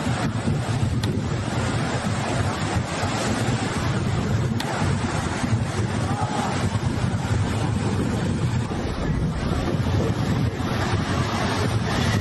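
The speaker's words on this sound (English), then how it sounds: "a massive wave suddenly crashed over the rocks" Large waves surge and crash over a rocky shoreline, a loud, continuous roar of surf with heavy wind buffeting close to the microphone throughout, no voices present.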